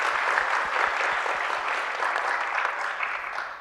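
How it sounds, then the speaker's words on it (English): An audience applauds the panel members at a dementia care planning event, a steady, even wash of many hands clapping that carries on for several seconds and fades slightly at the end. "would you please join me in just giving a round of applause to the panel members"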